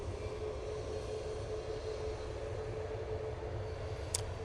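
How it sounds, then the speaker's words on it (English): A Ryanair Boeing 737 MAX 8 rolls for takeoff at Manchester Airport, heard as a faint, steady distant engine drone with a low rumble, no voices. "Ryanair, now on the roll off to Nantes, using 737 MAX 8"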